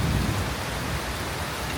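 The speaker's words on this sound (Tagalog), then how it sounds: "ang lakas ng ulan tsaka hangin kanina" Heavy rain pours down steadily with gusting wind during a storm in Thailand, a thick, continuous roar of downpour with deep rumbling low noise and no voices.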